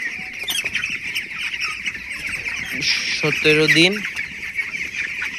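Chickens squawk and cluck on a small home poultry farm, a steady busy flock sound with one louder rising squawk burst near the middle; a voice speaks briefly.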